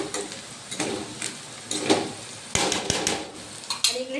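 Bitter gourd (karela) sabzi cooking in a pan without deep frying, with a low sizzle under repeated scraping and stirring clinks of a utensil against the pan, near and moderately loud.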